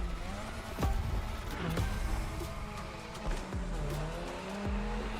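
Mazda MX-5 racing in The Crew Motorfest, engine revving and shifting up and down while the tires squeal and skid through corners, loud and close throughout with no talking.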